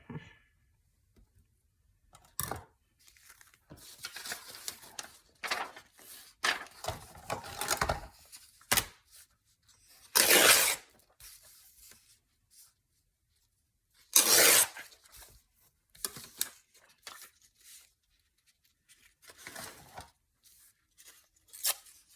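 A paper envelope having its top trimmed off: close, intermittent bursts of snipping and tearing paper separated by quiet gaps, with two louder rips partway through and no talking.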